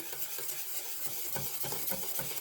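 Steady, soft stirring of yeast dough in a bowl, a spoon scraping and swishing in an even rhythm, close and quiet with no talking.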